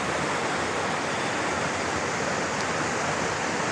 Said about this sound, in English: Beautiful little waterfall here where the creek is coming down into the lake.